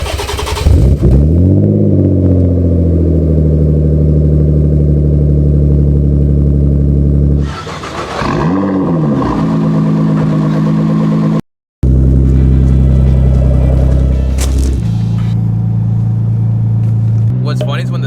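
A twin-turbo Nissan 300ZX engine cranks, catches and settles into a loud, steady idle close by, with a brief blip of revs partway through, a short cut-out, and voices talking over it.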